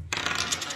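Metal coins jingle and clink as they are mixed between hands during a coin magic trick, a short bright rattle starting abruptly and continuing close up without talk.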